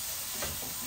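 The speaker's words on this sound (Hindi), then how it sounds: "इसको थोड़ा सा फ्राई करना है तो मैं इसमें थोड़ा सा ऑयल ऐड कर लेती हूँ ताकि ये थोड़ा सा फ्राई हो जाए" Chicken and vegetables frying in oil in a pan, a soft, brief sizzle with faint stirring, quiet and close.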